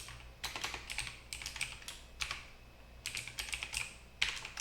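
Typing a password on a computer keyboard during a Windows sign-in: short bursts of close, crisp key clicks in quick runs, separated by brief pauses, with a low steady hum underneath.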